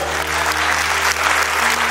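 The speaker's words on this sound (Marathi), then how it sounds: "वाबळे साहेबांसाठी जोरदार टाळ्या वाजवा." An audience applauding loudly at a Constitution Day gathering, a dense, even roar of many hands clapping that fills the whole short stretch without pause.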